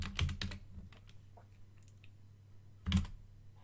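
Quick bursts of keystrokes on a computer keyboard as a password is entered, two short runs of clicky typing with a pause and a final cluster, close and fairly quiet with no talk.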